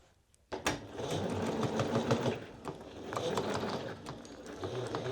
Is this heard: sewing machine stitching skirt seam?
yes